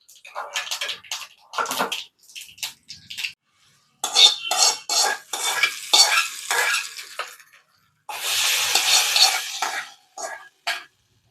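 A spoon stirs a fresh tempering of mustard seeds, dried chilli and curry leaves into coconut chutney, giving wet, scraping swishes that come in irregular bursts separated by short silences.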